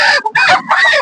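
Free-range village chickens packed several to an egg-laying box in a poultry shed in summer cluck and squawk loudly and close up in two or three quick bursts.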